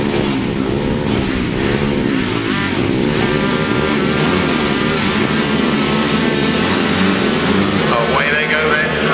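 Junior grasstrack motorcycles roar off the start of a race heat, a dense loud wall of revving engines throughout, with a commentator's voice over the top.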